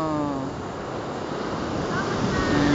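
Ocean surf washes steadily against the shore at Pundaquit with a constant low roar, while a voice is briefly heard at the start.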